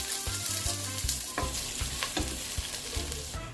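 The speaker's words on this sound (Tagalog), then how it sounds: "Kapag mainit na yung ating pan, ilagay na natin ang ating cooking oil. Next naman ang ating onions." Onions frying in hot cooking oil in a pan for pork sinigang, a steady close sizzle with repeated scraping and stirring strokes throughout.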